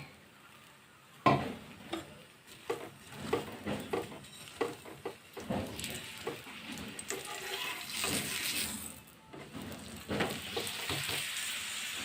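A radish paratha fries slowly in oil on a pan, giving a gentle, steady sizzle broken by louder bursts of crackling and spatters as it is pressed and turned.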